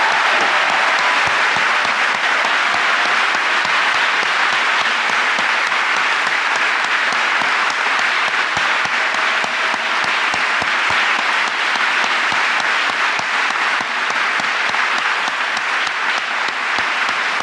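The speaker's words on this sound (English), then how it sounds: "let us clap" A lecture audience at Georgetown University claps loudly and continuously, a thick, even wall of applause sustained throughout without a break.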